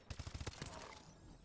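Rapid automatic gunfire in the video game Call of Duty: Advanced Warfare, a quick burst of about six evenly spaced shots followed by a fading echo, fairly faint in the mix.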